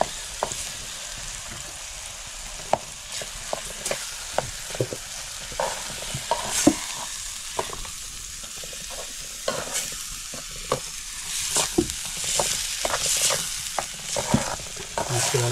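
Onion, coconut and garlic masala paste is stirred in a pan during village cooking in the Konkan, with a steady close sizzle broken by frequent clicks and scrapes of the spoon against the pan, and no voices.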